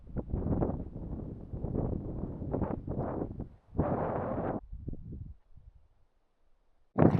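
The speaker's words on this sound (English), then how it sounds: "Alright, so we're a little windy." Wind gusts buffet the microphone at a stopping point on the Noah's Ark hiking trail. Loud, rumbling bursts come and go, fading to near silence before a final strong gust.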